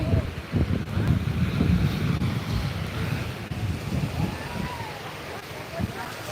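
Wind buffets the microphone on a beach near Hua Hin, Thailand, with waves washing in the background and a voice talking over it at times.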